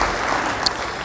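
Church congregation applauding together during a sermon, a steady broad wash of clapping that fills the whole moment, with no voices rising above it.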